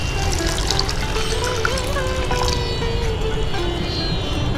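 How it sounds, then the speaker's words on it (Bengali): Water pours in a steady, close stream into sizzling spiced masala in a pan while preparing a hilsa fish curry, a continuous rushing splash with no talking. "এবার আমি অল্প একটু জল দিয়ে দিচ্ছি"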